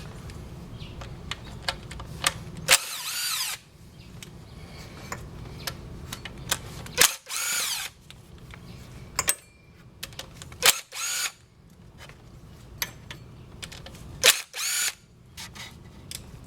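A power drill whirs in short bursts as it backs out the bolts on an automatic transmission drain pan. Several separate runs of a few seconds each are broken by clicks and handling noise, close by and loud.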